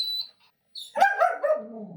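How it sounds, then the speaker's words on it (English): A puppy in a crate yips and barks close by in a quick burst of high, whiny barks after a moment of quiet, with no talking. "Does your puppy bark in the crate?"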